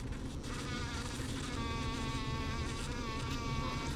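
A dense, steady drone of many honeybees buzzing close by at the hive, continuous and even throughout with no voices.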